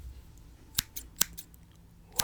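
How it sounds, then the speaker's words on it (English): Scissors snip through hair up close in an ASMR barber scene, with four or five crisp, sharp metallic cuts spaced irregularly against a quiet background. "gets his scissors out and starts cutting your hair"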